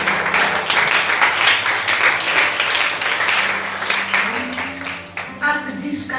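Church congregation applauding during a sermon on the Holy Spirit, a dense, steady burst of clapping that fills the room and fades slightly near the end, with voices mixed in.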